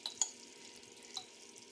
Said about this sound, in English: You can hear it sizzling and melting in there.